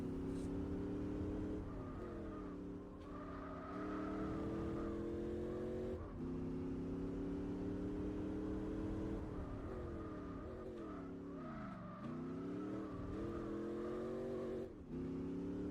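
A race car engine in Gran Turismo 4 at Laguna Seca revs hard and continuously, its pitch climbing and dropping with repeated gear shifts and lifts. The sound is steady and quiet overall, with no talking.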